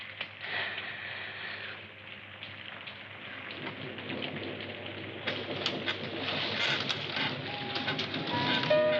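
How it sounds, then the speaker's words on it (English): Steady rain patters on a surface, a dense hiss with scattered drops, while birds call faintly in the background. "Sure been raining a lot lately."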